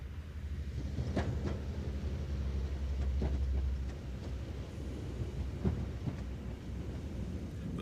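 A Class 156 Sprinter diesel train runs on the Mallaig extension line in Scotland, heard as a low, continuous rumble with occasional faint clunks, moderately distant and steady throughout.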